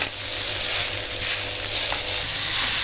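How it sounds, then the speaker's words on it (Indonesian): Rice stir-frying in a pan with mushroom broth seasoning, a steady close sizzle broken by repeated scraping and clinking stir strokes of a utensil against the pan. "Kita rasanya dari kaldu jamur ya teman-teman. Ini kita aduk terus."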